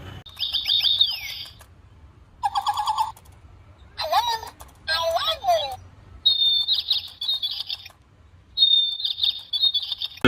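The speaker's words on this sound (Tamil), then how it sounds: "அந்த மோடில் இருக்கும்போது இந்த பறவைகள் பாடுற மாதிரி அப்புறம் அந்த பறவைகளோட சவுண்டு வர்ற மாதிரி ஒரு செட்டப்பும்" A talking bird cage toy plays electronic chirping and tweeting bird sounds in short bursts separated by brief pauses, some trilled and some warbling, loud and close, with no one speaking over it.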